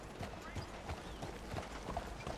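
Rhythmic clip-clop of a horse's hooves trotting in the video game Red Dead Redemption, evenly paced thuds under a faint background of game sound.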